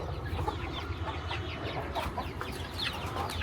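A sick hen clucks close by, with other fowl busy in the background; the soft clucks repeat steadily as part of a dense barnyard chatter that never falls silent.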